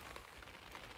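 Rain falls outdoors on a wet Wyoming trail: a steady, dense hiss of drops hitting the ground and surfaces around, even and faint, with no voices.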